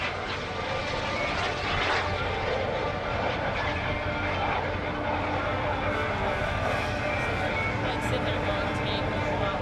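A Super Salto jet sailplane with a 42-foot wingspan flies at a military air station airshow, its steady jet roar continuous and fairly loud throughout, with an announcer's voice partly under it.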